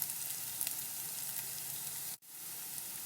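Mango and ginger sautéing in coconut oil for a Kerala-style pickle, a steady close sizzle with a brief cut near the end before the frying hiss resumes.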